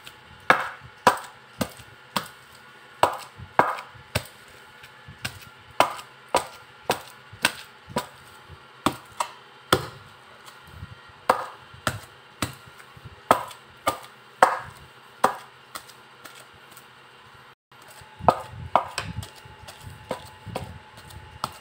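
Ingredients for nilupak saging (mashed banana with coconut) are pounded by hand in a steady series of sharp, loud thuds roughly every half second, with a brief pause before the pounding resumes.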